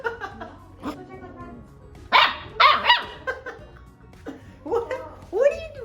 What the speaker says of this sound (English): just kind of barking and wanting to play